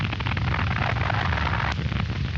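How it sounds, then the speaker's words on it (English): A 1943 corvette's depth charge explodes at the surface: a sustained loud roar of a blast, dense and rumbling, with a sharp crack near the end, all noise and no voices. "Now the surface explosion."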